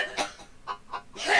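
A cyborg chicken in Wasteland 3 clucks in a few short, raspy, cough-like bursts spaced unevenly, close and moderately loud.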